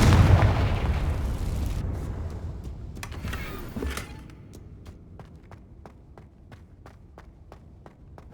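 A Confringo spell explosion in Hogwarts Legacy opens with a loud, broad blast that fades away, followed by a run of light, evenly spaced footsteps.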